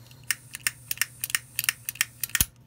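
A Zippo single torch lighter insert clicked over and over to ignite, giving a rapid string of sharp, close mechanical clicks ending in a louder snap, no talk.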